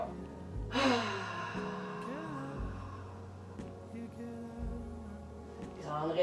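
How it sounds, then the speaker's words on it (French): A loud, forceful exhale through the mouth during a yoga breathing flow, a breathy rush with voiced sighing tones, heard close up over soft background music. "expire par la bouche avec bruit"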